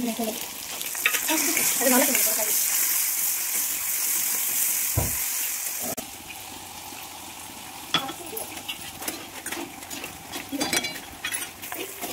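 Manchurian balls deep-fry in hot oil in a kadhai at home, a steady broadband sizzle filling the first half, then softer crackling with scattered stirring clinks, while voices talk faintly over it.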